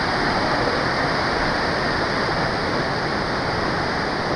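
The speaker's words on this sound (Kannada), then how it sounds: "ನೋಡಿ ಹೆಂಗೆ ಬರ್ತಾ ಇದೆ ಫೋರ್ಸಲ್ಲಿ ವಾಟರ್" Hebbe Falls in Chikmagalur, swollen after rain, pours down with force, giving a loud, close, unbroken roar of rushing water with no voices over it.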